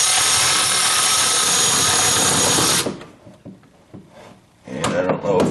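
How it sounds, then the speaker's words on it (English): An electric ratchet snugs down the body mount bolts on a 1976 Corvette restomod with a loud, steady whir that stops partway through, followed by a few short bursts and clanks nearby. "I'll use the electric ratchet here to get in there and just bring them down snug"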